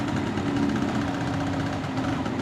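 A 1972 Vespa Super scooter engine idles with a steady, close, continuous mid-pitched drone and slight knocking vibration, running alone without talk.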